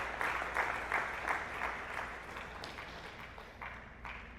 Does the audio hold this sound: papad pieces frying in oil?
no